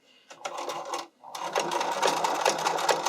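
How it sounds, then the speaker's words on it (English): Sewing machine running in continuous bursts as it stitches a fishing line hem on figure skating or dance costume fabric, with a brief pause near the start before steady, close stitching resumes. "You're just going to start sewing."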